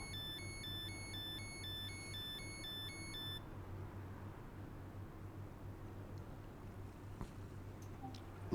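In Train Sim World 2 on the Island Line, a train's door-locking warning sounds as a run of repeating electronic beeps for about three seconds, then fades to a quiet cab hum.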